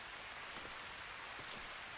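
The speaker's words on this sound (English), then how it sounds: "Just the rain." Steady rain falling on a surface, a dense, even patter of drops with a few slightly louder drips, fairly quiet and continuous with no voices.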